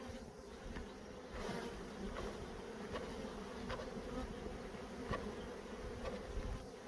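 A dense, continuous buzz of many honeybees, close and steady, around a hive super, with a few brief knocks and no voices.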